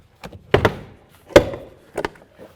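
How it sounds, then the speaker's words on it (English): Interior door panel clips on a 2011-2017 Honda Odyssey popped loose with a panel removal tool: several sharp, close snaps and thunks in quick pairs, spaced over a couple of seconds, with no talking. "now we can put the panel removal tool right behind the door and pop the whole door panel right off"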